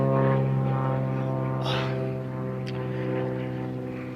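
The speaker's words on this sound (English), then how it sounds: "There's a plane passing over." A propeller plane passes overhead outdoors above a garden, a steady droning hum that holds loud and even for a few seconds before easing slightly as it moves on.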